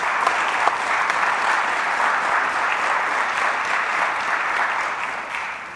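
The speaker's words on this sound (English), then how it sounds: "How about a round of applause for our instructors?" An audience at the Lackawanna College Police Academy graduation ceremony claps for the instructors. The applause is full, steady and sustained for several seconds, then tapers slightly at the end.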